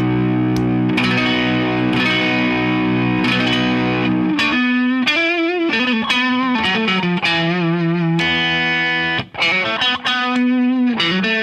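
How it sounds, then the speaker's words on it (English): A distorted electric guitar through a compressor pedal with treble boost plays steady chords, then sustained bending lead notes with a bright, cutting edge, loud and continuous with no talking. "there's a switch in the compression control section that allows you to add treble, to add some brightness"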